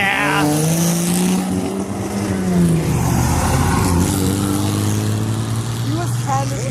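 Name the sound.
car revving and spinning tire at a summer car meet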